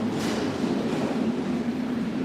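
A St Petersburg metro train runs along the Orange Line (Line 4) toward Prospekt Bolshevikov, a steady loud rumble and roar of wheels inside the car, continuous throughout with no talk.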